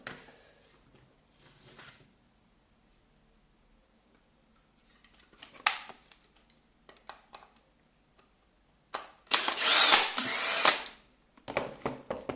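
A Ryobi 18V power drill spinning tiny security bits whirs in short, close bursts separated by quiet gaps, the longest burst loud and steady before stopping.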